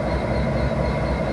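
A GP59 diesel locomotive leading a local freight train, heard as a loud, steady low engine rumble with continuous rolling rail noise close by.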